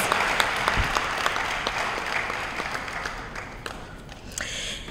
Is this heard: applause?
yes